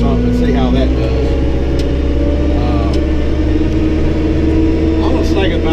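An abused small tractor with a CVT transmission idles and runs close by with a steady, loud low engine drone and humming whine that continues without pause, while a person talks over it.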